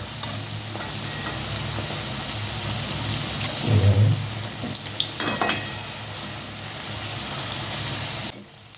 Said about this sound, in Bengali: ব্রাউন ব্রাউন করে আমি কিন্তু ভেজে নেবো বন্ধুরা